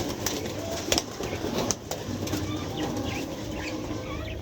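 Pigeons near an egg in a home setting, with soft bird calls and a few brief bursts of wing flapping close by over low background noise.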